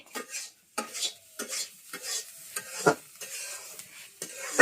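Fish and bottle gourd peel fry in a pan with brisk stirring, scraping and crackling sizzle in short repeated bursts, close and fairly loud with no talk.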